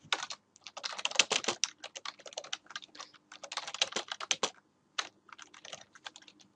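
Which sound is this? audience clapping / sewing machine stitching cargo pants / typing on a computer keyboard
typing on a computer keyboard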